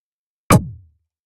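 A single processed snare drum hit on the master channel, a sharp crack with a short, heavy body that decays in under half a second, isolated and alone.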